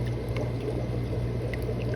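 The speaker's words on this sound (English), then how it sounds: "Fresh water coming in." Fresh water pours steadily into a fish tank with a continuous close trickling and splashing, accompanied by a low constant hum, and no one speaks.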